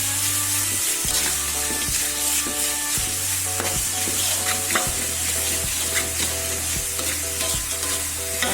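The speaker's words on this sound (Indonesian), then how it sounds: "kita panaskan minyak dan kita akan mengoseng bumbu tadi ya. Bawang merah bawang putih ini tambahannya." Shallots, garlic and spice paste stir-frying in hot oil: a steady sizzle with repeated scraping stirs from a spatula, while a low rhythmic bass-heavy music loop plays underneath.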